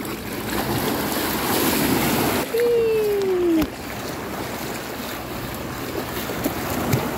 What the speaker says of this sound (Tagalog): At may mga bangka dito.